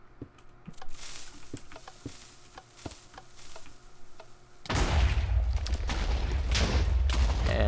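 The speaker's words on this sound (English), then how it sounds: "it looks like he's using the same penis cannon to try and take out Make-A-Wish's diamonds" A cannon fires in a video game in a series of sharp cracks that grow into a loud, dense burst of blasts and rumble toward the end, with no talking.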